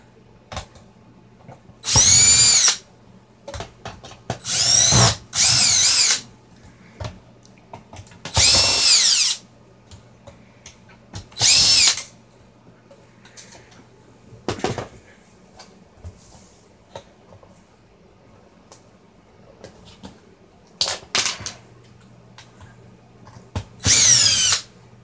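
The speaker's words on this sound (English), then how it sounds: "First, you're going to want to remove these 5 screws." Power drill backing screws out of a Toyota Highlander JBL navigation radio, several loud whirring bursts of a few seconds each with quiet gaps and small handling clicks between them.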